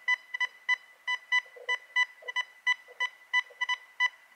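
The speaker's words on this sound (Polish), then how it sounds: "A wykrywacz zareagował na niego w taki sposób." A Golden Mask metal detector sounds a rapid series of short, evenly pulsed electronic beep tones while passing over an aluminium medallion, repeating steadily and clearly with no talking.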